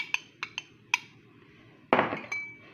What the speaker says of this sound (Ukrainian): Все це я перемішаю і буду формувати піцу.